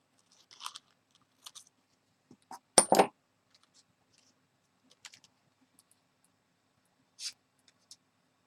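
Scissors snipping through a paper butterfly, close and quiet, a few sparse crisp cuts with one louder crunching snip near the middle and long silent gaps between.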